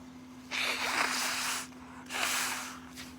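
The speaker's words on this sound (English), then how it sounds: "blow my nose again." Someone blows their nose twice in quick succession, two breathy, close honks of about a second each separated by a brief pause, over a faint steady electrical hum.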